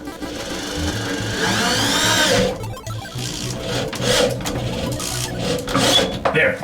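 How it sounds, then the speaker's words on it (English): A power driver sinks a screw into a wall stud during closet restoration work, giving about three seconds of pulsing, buzzing whir, followed by scraping, clicks and handling noises at close range. "once you know you're in the meat of the stud, just screw it in"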